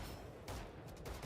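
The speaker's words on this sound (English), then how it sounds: "Shots out." Gunshots in a Valorant match broadcast: a quick cluster of sharp shots, with a couple of distinct bursts in close succession over a steady background.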